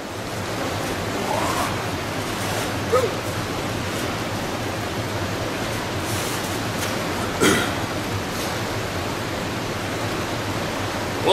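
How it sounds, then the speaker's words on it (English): A waterfall pours through river rapids in a steady, close, full roar of rushing water that holds at one level from start to finish, with no voices over it. "than the waterfall that's right there in the rapids"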